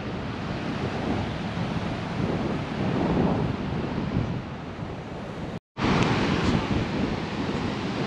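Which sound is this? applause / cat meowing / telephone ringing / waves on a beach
waves on a beach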